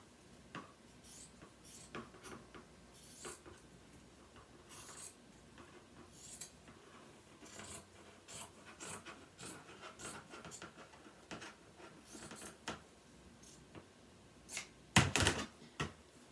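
Scissors cutting through a fabric rag strip for a Valentine rag bow, heard as a series of faint, irregular snips and rasps, ending in one louder, sharper cut near the close. No voices.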